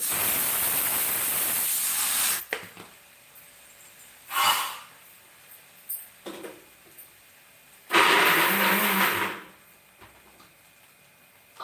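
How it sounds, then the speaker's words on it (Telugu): Electric mixer grinding tamarind chutney with water, heard as short bursts of loud whirring roar: one running at the start, then a brief pulse and a longer burst, separated by near-quiet gaps. "అందులో వాటర్ వేసుకొని రుబ్బేసుకోవడమే"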